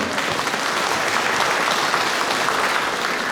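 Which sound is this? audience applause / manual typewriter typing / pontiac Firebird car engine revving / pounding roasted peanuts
audience applause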